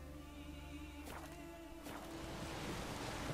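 Rain and wind lash the Skellige isles in The Witcher 3 video game, a steady, faint, rushing hiss of downpour and gusts with no talking.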